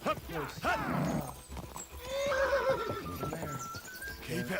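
A horse in Kingdom Come Deliverance 2 gives a close, shaky neigh over clip-clopping hooves, with a voice breaking in briefly.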